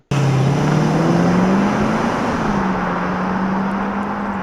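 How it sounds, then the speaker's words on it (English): A Lexus LS430 luxury sedan cruising on the road, a steady loud hum of engine and road noise with a low engine tone drifting gently in pitch throughout, heard from inside the car with no talking. "So, driving the Lexus LS430."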